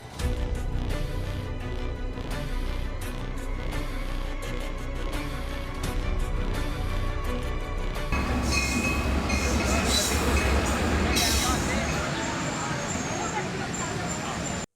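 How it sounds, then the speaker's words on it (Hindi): Train pulling into a railway station in Punjab, a steady rumbling roar with rattling wagons and faint wheel squeal, loud and continuous, with a sharper noisy surge midway. "जब रेलवे स्टेशन पर ट्रेन आ गई"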